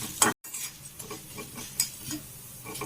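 Urad dal roasting in oil for pirandai chutney, a soft sizzle under repeated scraping and clinking stirs of a spoon against the pan, close and uneven with a brief gap.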